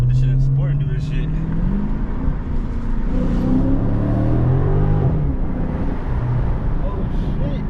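A Dodge Challenger Scat Pack widebody in sport mode accelerates, its engine revving and rising in pitch under a steady rumble while someone talks over it.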